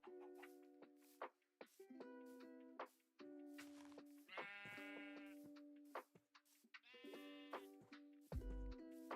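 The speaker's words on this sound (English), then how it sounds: "Bunch of sheep." Several Minecraft sheep bleat in repeated, overlapping calls at moderate volume, some louder and nearer than others, with no talk.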